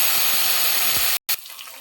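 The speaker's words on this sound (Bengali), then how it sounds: "তিল ধোয়া জল দিয়ে দেবো মশলার মধ্যে।" Water pours into a spice paste as sesame-washing water is added for a gondho pata curry, a steady broad rush lasting about a second before a sharp cutoff, then only faint quiet handling.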